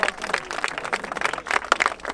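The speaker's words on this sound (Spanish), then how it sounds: "¡Un aplauso, batalla!" A short burst of crowd applause at a 2-vs-2 freestyle rap battle, dense, scattered claps rising and falling throughout with no clear voice over them.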